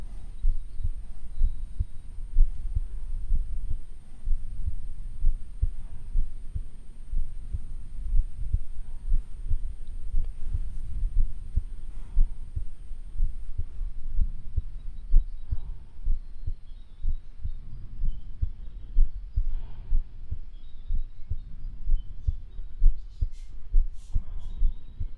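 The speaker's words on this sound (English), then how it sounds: "And what you hear is actually the heartbeat of the deer." A recorded deer heartbeat throbs as a continuous low, muffled pulse, with steady repeated thumps over a deep hum that stay at an even level throughout.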